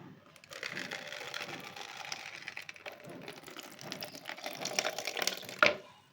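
Fennel seeds that have been soaking are rinsed in a bowl of water, giving a steady close splashing and swishing of liquid with a brief louder slosh near the end.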